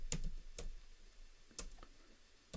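Sparse keystrokes on a computer keyboard while code is entered into an editor, a few quiet isolated clicks spaced irregularly against a faint background.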